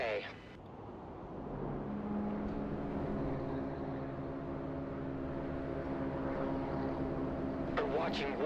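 In the war video game Broken Arrow, a Predator drone flies overhead as a steady droning hum with a faint tonal whine, sustained and fairly quiet throughout.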